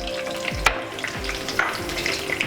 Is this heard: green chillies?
yes